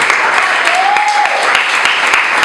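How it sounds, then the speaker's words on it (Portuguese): Audience applause at a Sunday church gathering, a steady dense patter of many hands clapping close by, with a brief voice or whistle-like tone rising through it. "Dá uma grande salva de palmas para você."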